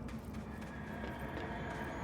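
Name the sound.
horse hooves clip-clop in a video game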